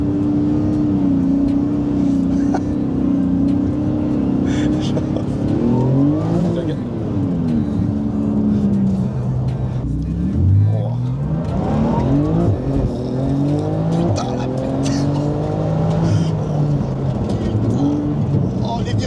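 Cars racing past at high speed at the Carburacoeur festival, engines rising and falling in pitch as they approach and pass, with tire squeal, loud and continuous, while people talk over the noise.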